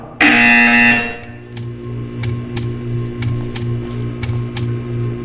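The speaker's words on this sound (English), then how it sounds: "You will hear a buzzer." A loud electronic buzzer from the game Portal 2 blares for about a second, followed by a steady hum with a series of evenly spaced clicks.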